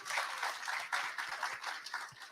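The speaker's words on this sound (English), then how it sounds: "we should give, before I start, a round of applause to all the organizers and their hard work in making this possible" Faint, distant audience applause for the organizers at a Black Health Fair and Wellness Summit, a steady patter of many hands clapping with no talk over it.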